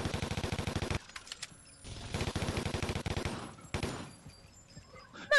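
Rapid bursts of automatic gunfire shooting zombies in a VR video game, loud and close, firing in several sustained volleys with short gaps between them.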